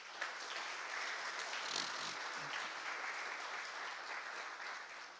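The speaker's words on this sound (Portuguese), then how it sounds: "Vamos aplaudir o Senhor?" A Portuguese-speaking church congregation claps continuously during a sermon. The applause is steady and fairly distant, with no clear speech on top.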